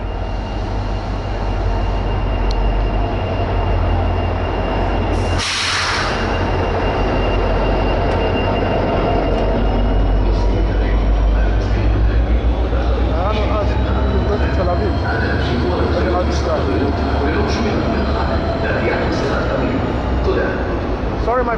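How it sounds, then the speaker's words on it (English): A passenger train pulls into a station in Israel with a steady low rumble and rolling wheel noise, a sharp hiss or horn burst near the start, and faint squeals later; people talk throughout over the train. "I think my train is coming now."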